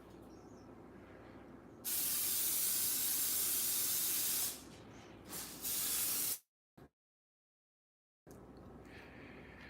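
Protective coating sprayed from a can onto a pan: a steady loud hiss in two bursts, the second cut off abruptly, leaving silence before quiet room noise returns.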